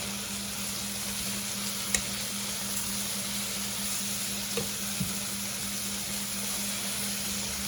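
Onions and other food fry in a pan, a steady close sizzle with a low hum underneath and a few sharp clicks as the food is turned.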